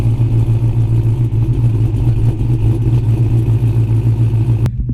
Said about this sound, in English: The chopping sound does not get old.